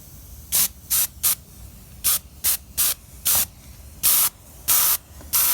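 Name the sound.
spray paint misting from a can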